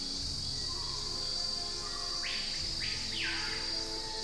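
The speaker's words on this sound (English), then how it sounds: "The birds sound like they're wolf whistling." Birds in a Nancy Drew mystery game give two quick rising whistle calls in a row over a steady, faint backdrop of insect and ambient hum.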